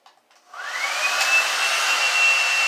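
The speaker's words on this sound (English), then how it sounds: "I hold the hair dryer away from my eye, but still enough to kind of give me that breeze." A hair dryer switches on after a moment of quiet and blows steadily, a close, loud whooshing hum with a faint high whine.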